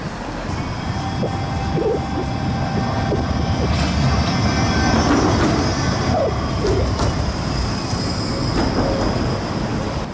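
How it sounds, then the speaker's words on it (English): Electric tram running on overhead wire through a Bratislava business district, a loud continuous rumble of wheels on rails with intermittent metallic squeals, close by and steady throughout, no talk. "we got the trams that run by the wire, the electric wire"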